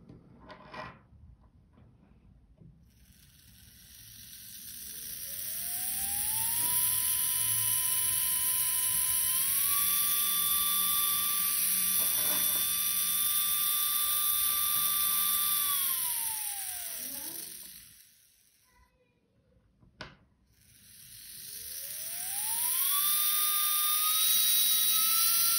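A small DC motor driven by a speed controller circuit whines as it spins up in a rising glide, holds a steady high pitch, winds down, stops briefly, then ramps up again.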